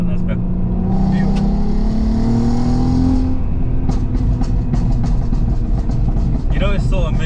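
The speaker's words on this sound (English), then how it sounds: "you hear the tone of the car, yeah, and then when you let off, you hear a little crackle" A Volkswagen Golf MK5 holds a steady, humming engine tone that rises slightly, then eases off into a few sharp exhaust crackles and pops near the end.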